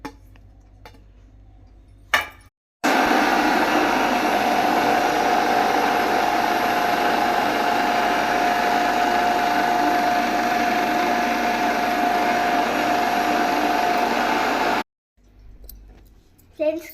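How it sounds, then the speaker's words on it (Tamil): A kitchen blender grinds morning juice ingredients with fresh coriander, a loud continuous roaring whir running about twelve seconds, with brief quieter moments and handling noise before and after. "கிரைண்ட் பண்ணி ஃபில்டர் பண்ணி வச்சாச்சு"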